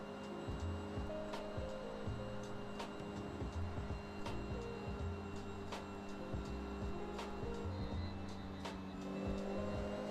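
Inside a moving car, the engine drones steadily while a straight-cut transmission whine rises and falls through shifts, with occasional sharp clicks and rattles.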